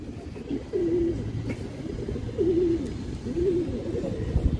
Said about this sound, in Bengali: একটা কালা দানা কবুতর আছে